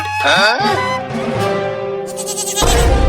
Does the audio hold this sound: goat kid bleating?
yes